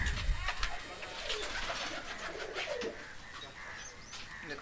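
Pigeons in a breeding loft for Chini Kaldom pigeons in Kolkata give soft, repeated cooing over steady background noise, fairly close and moderately loud throughout.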